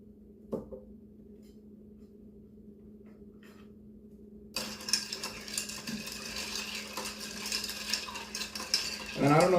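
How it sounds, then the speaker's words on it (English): A gin martini is stirred with a bar spoon, and a quiet lead-in gives way to a continuous rapid clinking and rattling of ice against the glass, close and fairly loud. "And then we're gonna stir that up"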